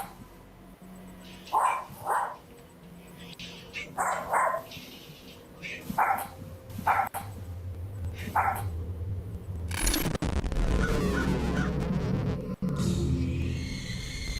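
A dog barks in a room several times, with spaced loud single barks over a quiet hum, followed by a louder rush of noise and clatter.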